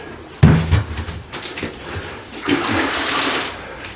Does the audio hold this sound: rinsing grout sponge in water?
yes